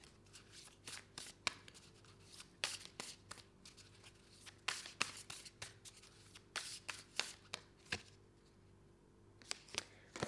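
Oracle cards are shuffled by hand for a tarot reading in repeated quick, crisp riffling bursts separated by short pauses. The sound is close and fairly quiet, with no talk.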